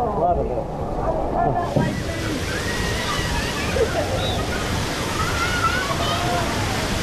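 A big tipping bucket on The Hive water park play structure at Soaky Mountain dumps its load, a loud, sustained rushing splash and sloshing of falling water, with faint voices mixed in.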